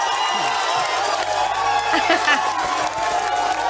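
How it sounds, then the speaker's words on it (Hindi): A loud studio audience at a roast night on Bigg Boss 17 applauds and cheers steadily, with clapping and shouts blending into a continuous roar. "आपकी जोरदार तालियों के साथ"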